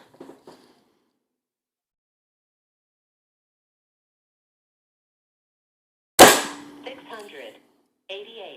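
A single sharp, loud shot from a Crosman Trail Hawk .177 Nitro Piston air rifle cracks out after long silence, followed by a short metallic ring and faint clicks of handling.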